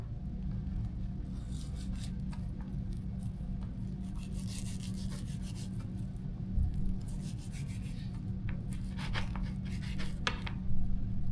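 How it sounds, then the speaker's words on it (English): A knife slices and scrapes the fatty layer off a raw rack of lamb, making soft rubbing and cutting strokes close by over a steady low kitchen hum, with no voices. "So we're gonna start off by trimming the fat"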